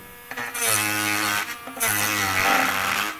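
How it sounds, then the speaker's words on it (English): A Tork Craft mini grinder runs at speed setting 3 while sanding edges, making a loud, close, high whine that dips briefly twice and then runs on steadily. No one talks. "now we have to use our Tork mini grinder to solve the problem. Just going to put that onto speed setting 3"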